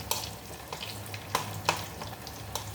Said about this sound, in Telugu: ఈ పోపు వేసాను కదా వేగుతూ ఉంటుంది